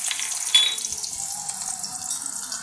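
Chopped onions go into hot oil in a home kitchen pan for a red bhaji, setting off a steady broadband sizzle with a sharp burst at the start that settles into continuous close frying hiss.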